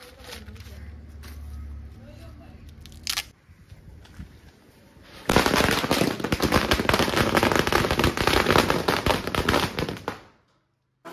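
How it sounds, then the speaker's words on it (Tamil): After a quieter stretch with voices, a string of 1000 firecrackers goes off at a Diwali celebration, loud, rapid popping and crackling for about five seconds before stopping abruptly. "ஒரு பட்டாஸ் 1000 வாலா போட்டலாமா?"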